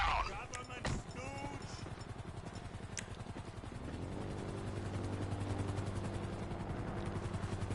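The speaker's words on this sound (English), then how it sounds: "Sounds like a big old chopper" Helicopter in the video game GTA Online, a low steady rotor drone that builds and holds after a few sharp bangs and short bursts of gunfire at the start, with game speech over the opening.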